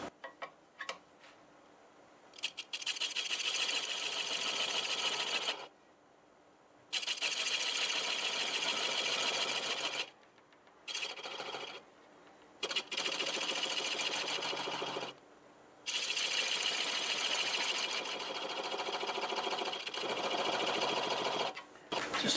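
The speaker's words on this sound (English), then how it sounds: "we'll use a 1/2-inch bowl gouge, and I can see that's a little bit high, and we'll just cut that away" A wood lathe turns a scrap of myrtle wood while a 1/2-inch bowl gouge cuts it, making close, loud bursts of rasping, chattering cutting noise broken by short pauses.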